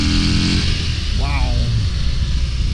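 A 2022 Harley-Davidson Fat Bob 114 motorcycle accelerates under heavy, steady wind rush, its engine note rising briefly partway through.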